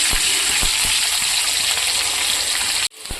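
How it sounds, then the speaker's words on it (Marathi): Green chillies, two or three of them, sizzle steadily in hot oil for a curry, a continuous bright hiss with a few soft pops, close and fairly loud, cutting off abruptly near the end. "मी इथं कढी बनवायसाठी दोन ते तीन हिरव्या मिरच्यांचा वापर केला आहे त्याला आपण तेलामध्ये मस्त असं फ्राय होऊ देऊ"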